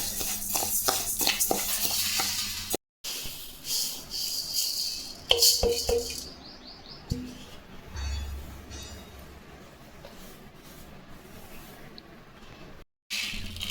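Pearl millet roasting in a pan, with a loud steady scraping stir and a dry rattling sizzle of the grains, brief pauses between bursts of stirring.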